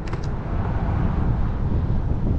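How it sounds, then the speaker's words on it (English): Strong outdoor wind roaring as a steady, loud, low rumble buffeting the microphone during a ride on a Currus NF Plus electric scooter. "It's real windy out."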